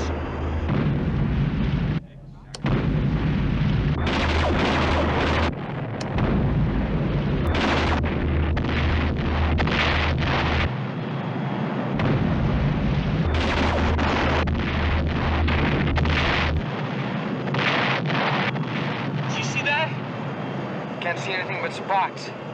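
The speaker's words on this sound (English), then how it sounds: "The Pegasus is launching your missiles." Missiles fired by the battlestar Pegasus explode against Cylon baseships in the 1978 Battlestar Galactica, a loud and steady rumbling barrage of blasts and booms with a brief cutout, mixed with dialogue and music.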